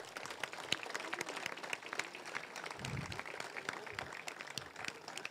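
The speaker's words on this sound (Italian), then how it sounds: "E facciamo un applauso." Applause from a crowd at an Alpini regional gathering in Vittorio Veneto, steady dense clapping filling the whole stretch at moderate distance, with a faint murmur of voices underneath.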